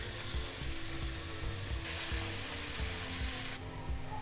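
Chopped onions frying in oil in a wok, a steady close sizzle with occasional stirring clatter and a burst of stronger hissing partway through, continuous and without talk.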